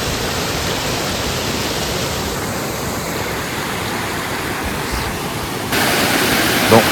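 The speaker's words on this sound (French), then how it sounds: "c'est là où l'eau ruisselle pour rejoindre la cascade" Loud, steady rushing of water flowing toward the waterfall at Baume-les-Messieurs, France, a continuous dense roar that swells slightly near the end, with no voices.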